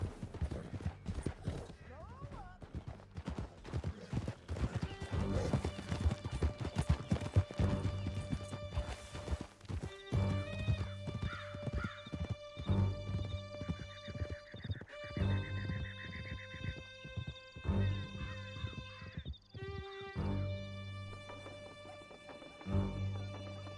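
Horses gallop in Red Dead Redemption 2, a dense rapid hoofbeat rhythm that is strongest early on and then fades under swelling orchestral music, with a voice heard briefly.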